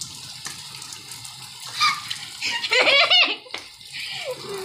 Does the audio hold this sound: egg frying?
no